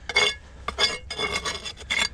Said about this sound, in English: where's my handy dandy trowel? Clean up all this.